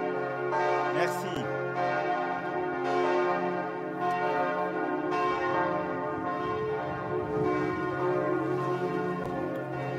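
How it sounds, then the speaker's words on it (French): Church bells ring out a carillon from the towers of Notre-Dame de Paris, dense, loud overlapping peals with repeated strikes sustaining a rich ringing wash for the whole stretch, with faint voices underneath. "ça annonce un carillon de quelques minutes"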